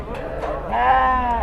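Goats bleat at a busy livestock market, with one long wavering call rising over the crowd noise while people talk nearby.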